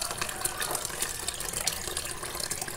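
Steady gushing of water pouring into a cooking pot, a continuous splashing hiss lasting a few seconds without speech.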